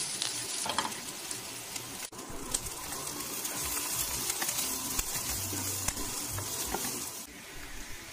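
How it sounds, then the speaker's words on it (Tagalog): Garlic sizzles in a pan after chorizo and onion have been sautéed in a little oil, a continuous close frying hiss with occasional spoon scrapes and a soft clack, no voices. "Sunod po nating igigisa ang bawang"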